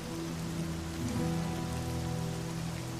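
Steady, dense rain falls on a surface, a constant hiss and patter with a low drone underneath. It holds at the same moderate loudness throughout, with no voices.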